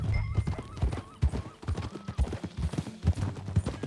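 A horse's hooves clip-clop steadily at a brisk walk in Red Dead Redemption 2, loud and close, with faint neighing and background game music.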